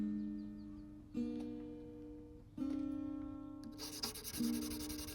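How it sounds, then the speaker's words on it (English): Sandpaper of 800 grit rubs across the frets of a 95-year-old guitar in a few long steady strokes, close and fairly quiet with no talking. "By the last 5 frets, I was just hitting it with the 800 grit sandpaper and calling it a day."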